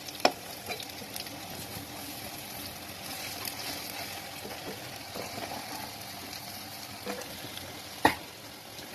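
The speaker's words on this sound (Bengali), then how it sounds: "একটা পিস ভাজা হয়ে গেছে এবার পরের পিসটা ভেজে নিচ্ছি" Bora fritters fry in a pan of hot oil, giving a steady, fairly quiet sizzle with a couple of sharp clicks of a utensil against the pan; no one speaks.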